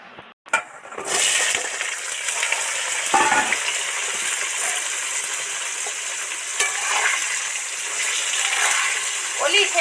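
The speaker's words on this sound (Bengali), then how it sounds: "এবার পটলগুলো তেলের মধ্যে উঠিয়ে দেবো" Pointed gourd (potol) pieces dropped into hot salted oil for a potol dopiaza set up a loud, steady sizzle and crackle that starts after a brief pause and continues unbroken, with occasional stirring scrapes.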